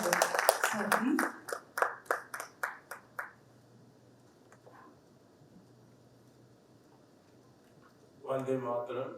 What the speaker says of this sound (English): Everyone, with a round of applause, let's welcome Dr. Raghavender.